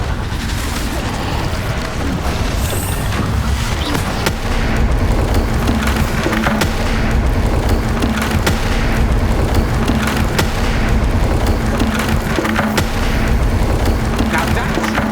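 The Incendio fire spell is cast in Hogwarts Legacy, a loud, sustained roaring blaze of booming, crackling bursts that fills the whole stretch at constant intensity.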